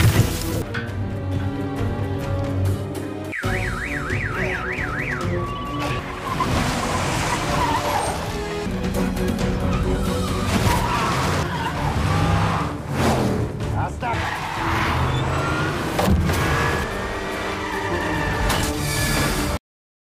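Cars race at speed in a dramatic movie chase, with screeching tire skids, revving engines and passing vehicles mixed under a loud musical score and sound effects, running steadily for about twenty seconds.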